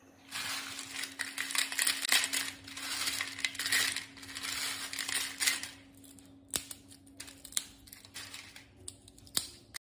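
Sun-dried orange peel, dried for about three days, is snapped and broken apart by hand, producing a series of crisp, brittle cracks and crunches in irregular bursts, close and fairly loud.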